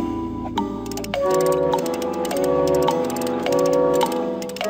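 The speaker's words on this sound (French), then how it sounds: "Le balancier devint l'instrument de précision des horloges." A pendulum clock ticks in a steady, even rhythm, mixed with sustained musical tones at moderate loudness.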